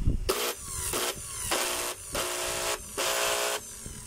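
A Makita circular saw with a faulty armature or field coil, plugged in and run in three bursts, gives a rough, whining motor drone that stops and restarts between runs, close and loud with no talking.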